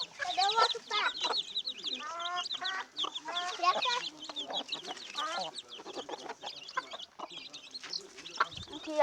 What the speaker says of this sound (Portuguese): Os pintinhos e os patos.